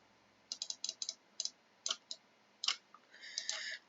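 Computer keyboard keys clicking right beside the microphone during a Minecraft session, coming in irregular bursts of quick taps and louder single strokes, ending with a rapid cluster of clicks.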